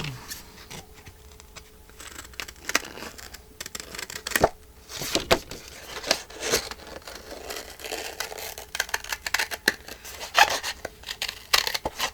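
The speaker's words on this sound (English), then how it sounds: "Now let's see if I can cut this angle out." Scissors snip and slide through paper while cutting an angled piece for a file folder journal pocket, with irregular close crisp cuts and paper rustling, fairly loud and without speech.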